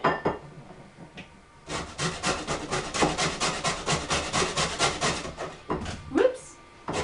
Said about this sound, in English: Right, we need to zest these.